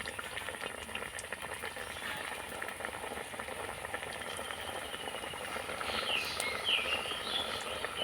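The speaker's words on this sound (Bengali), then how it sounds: "এবার ভেজে নেব, একে একে তেলের মধ্যে ছেড়ে দেব।" Cutlets coated in flattened rice (chira) fry in medium-hot oil, giving a steady, soft bubbling sizzle throughout that swells slightly toward the end, with no voices.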